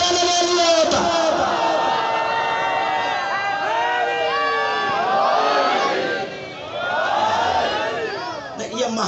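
A majlis crowd in an imambargah during Muharram raises a loud collective shout of a religious slogan, voices surging together in waves, then dipping briefly before swelling again, close and dense.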